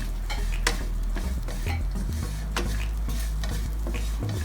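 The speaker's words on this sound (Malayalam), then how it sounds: "നമുക്ക് നല്ല ഇളക്കി കൊടുക്കാം." Masala spice powder with chilli and garam masala stirred in a pan for Kerala-style stir-fried clam meat: steady scraping spoon strokes against the pan over a continuous sizzle, close and fairly loud, no talking.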